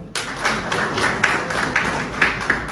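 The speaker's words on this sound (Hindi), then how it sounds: "कारकुनों के एजाज में तालियां बल्कि जोर से बजी हुई है, भरपूर तालियां" An audience claps for party workers at a Pakistan Tehreek-e-Insaf France gathering, a loud, sustained burst of many hands starting abruptly and continuing evenly, close and dense, with no talk over it.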